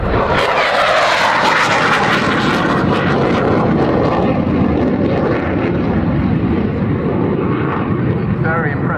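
A Saab Gripen fighter jet roars past at high speed, a loud, broad rushing engine noise that stays strong throughout and slowly fades in its upper hiss.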